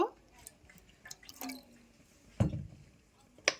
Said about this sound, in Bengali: এখন আমি এই থালাটার মধ্যেই একটু জল দেব।